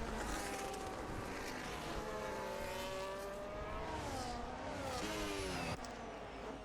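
Open-wheel race cars on a Las Vegas street circuit braking into a chicane, with loud whining engines and layered tones that sweep down and rise again as several cars slow and pull away, filling the clip steadily.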